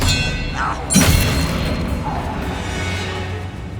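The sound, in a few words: Expelliarmus disarming spell cast in the video game Hogwarts Legacy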